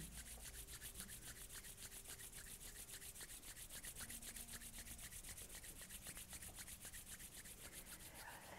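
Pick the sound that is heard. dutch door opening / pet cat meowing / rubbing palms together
rubbing palms together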